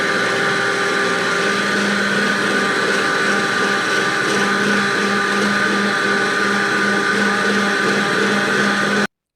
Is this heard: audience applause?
no